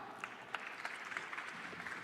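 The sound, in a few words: audience applause for Kyle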